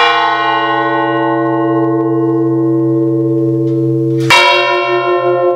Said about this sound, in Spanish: el motivo por el que se toca la campana es porque extermina y aparta a los demonios